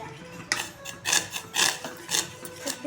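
A spoon stirs mango-flavoured custard powder mixture in a pot, giving a series of close scraping and rubbing strokes in a loose, uneven rhythm with no talk.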